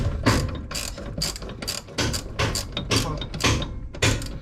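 Ratchet wrench working crusty, rusted bolts loose on a 1965 Ford F100, loud rapid bursts of clicking pawl strokes repeating in a steady rhythm, close up.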